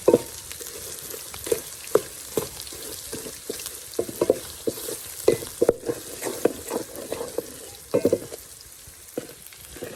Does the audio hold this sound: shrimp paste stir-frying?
yes